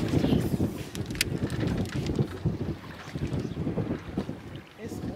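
Strong gusty wind buffeting close by on a bass boat on the California Delta, with a steady low roar and rumble throughout.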